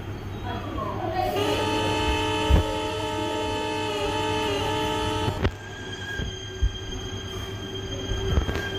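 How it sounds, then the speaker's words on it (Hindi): A local train moves in Microsoft Train Simulator, with a sustained metallic wheel squeal and rolling rail noise, a few sharp clanks punctuating the steady run. "देखते हैं पूरी लोकल ट्रेन तो मूव हो रही है अभी फिलहाल के लिए।"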